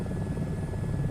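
A helicopter in a VR flight game, a steady close rotor and engine drone with a low throbbing beat, brief and unbroken, no speech.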